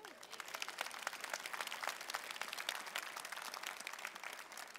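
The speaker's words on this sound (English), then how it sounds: "Let's give a clap to the Lord." An audience at a church preaching conference claps together in praise, a dense, even wash of many hands at moderate level that continues steadily throughout.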